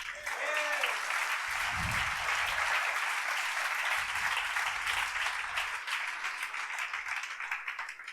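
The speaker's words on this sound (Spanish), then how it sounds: "Dele un aplauso al Señor." A church congregation at a national youth conference applauds in a sustained, even wash of clapping lasting the whole stretch, with brief low voices or cheers rising under it.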